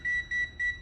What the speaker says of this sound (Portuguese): como não está na escala de 10 amperes, ele dispara o alarme